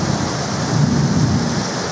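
A long, low rumble of thunder rolls through a thunderstorm over steady rain, building slightly in the middle and then fading, with no voices heard.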